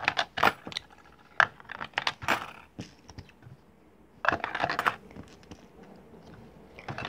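Coins clink and rattle as they drop into a plastic Lego piggy bank, several sharp metallic clatters in irregular bursts with quiet gaps between.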